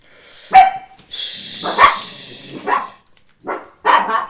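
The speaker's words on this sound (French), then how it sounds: "Oh, les chiens." Dogs in a home bark loudly and close by after the doorbell rings, giving several sharp barks in uneven bursts with short pauses between them.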